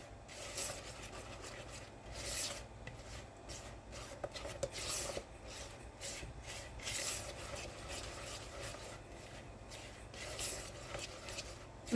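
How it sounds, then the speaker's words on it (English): Strawberry muffin batter stirred in a bowl, a quiet repeating scrape and swish of the spoon through thick batter in uneven strokes, close and soft with no talking. "And we're going to give this a stir."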